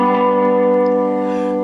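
Lap steel guitar sounding a sustained chord with rich, steady harmonics, part of a lick that skips over strings three and four; loud and close, slowly decaying with a slight echoing shimmer and no talking.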